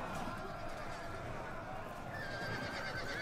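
Cavalry horses in a mounted clash in Total War: Attila, whinnying over a dense, continuous battle din of hooves and clamor, with no clear talk.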